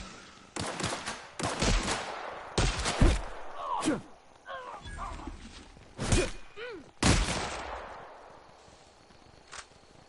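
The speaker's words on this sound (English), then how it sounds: "Shooting at me." Gunfire in The Outer Worlds comes in a string of sharp, loud bursts and single shots, some close and some overlapping. Thuds and metallic game effects sit between them, with short gaps of quieter background.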